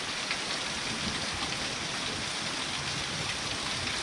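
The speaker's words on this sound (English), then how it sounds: "I've worked all day long in a rain like this" Steady, heavy rain pouring down continuously, a dense even hiss of drops hitting surfaces nearby, with no voices.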